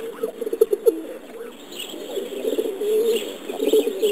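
Pigeons coo repeatedly on a garbage dump, their soft, throaty calls rising and falling in a steady rhythm at close range over a low, continuous background hum.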